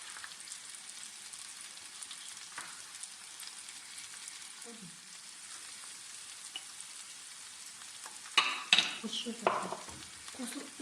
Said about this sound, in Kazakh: Заттарымызды қуырып дайындап алдық